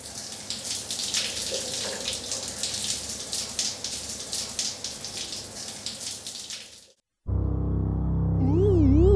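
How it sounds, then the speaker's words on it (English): A cold shower runs in a steady, close hiss of falling water for about seven seconds, then cuts off abruptly and gives way to electronic tones. "What's going to happen when he steps into a cold shower?"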